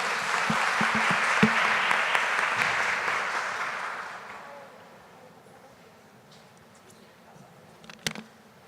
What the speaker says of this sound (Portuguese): Uma salva de palmas para a doutora Mayra Calef